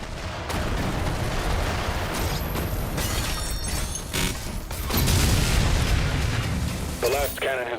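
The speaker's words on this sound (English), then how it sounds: "The last cannon has been destroyed." Artillery cannons being destroyed in the Doom: The Dark Ages video game, with dense rumbling booms and blasts running continuously, swelling louder near the end amid layered game effects.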